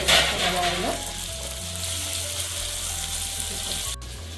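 Onion, tomato and cashew paste fries in hot oil in a pan, a steady close sizzle with a faint tonal hum running underneath, ending with a brief knock near the close.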